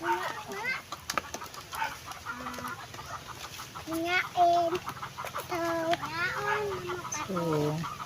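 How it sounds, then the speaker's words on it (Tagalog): Native chickens on a small chicken farm clucking in repeated rising calls, close and fairly loud, with voices talking among them. "Ito yung mga native chicken ko guys."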